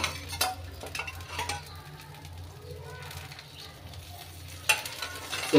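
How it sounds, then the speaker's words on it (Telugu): Oil sizzles on a hot pan being readied for dosa, a steady close crackle with a few sharp metal clinks and scrapes, mixed with a voice talking over it. "ఇప్పుడు మనం కొంచెం ఆయిల్ వేసుకోవాలి దీని మీద."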